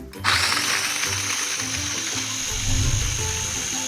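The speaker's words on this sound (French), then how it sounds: "Et de ces oignons, on va prendre les petits bouts verts, ceux qu'en général on jette. On va assaisonner poivre, le sel, et maintenant on va simplement mixer." An electric blender whirs as it purées green onion tops with salt and pepper, a steady close motor drone that holds evenly throughout with a slight rise in pitch and grit near the end.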